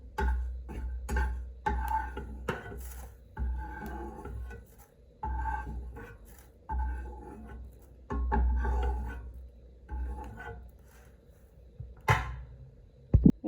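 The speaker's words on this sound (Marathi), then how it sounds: "बडीशेप छान भाजत आलेली आहे वास आला की समजून जायचं पूर्ण भाजली गेलेली आहे" Fennel seeds dry roasting in a pan, with repeated scraping and rasping strokes of a spatula, roughly one every second, plus light ticking of seeds against the metal under a low steady rumble.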